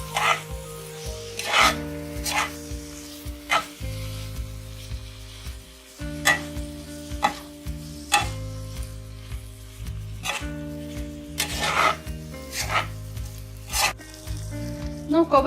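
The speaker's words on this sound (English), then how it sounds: "Mix it well." Okra and onions sizzle in a pan for dhaba-style bhindi do pyaza while a spoon stirs them in repeated scraping strokes over a constant frying hiss, with soft background music underneath and no talking.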